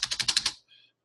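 About six quick keystrokes on a computer keyboard in an even, rapid burst, close and crisp, followed by a faint brief tone, with no speech.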